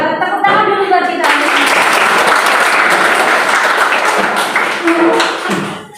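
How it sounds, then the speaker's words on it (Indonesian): Students in a classroom break into loud, dense clapping after a short voice at the start, the applause holding steady for several seconds before tapering off as a voice returns near the end. "Tepuk tangan dulu buat kita."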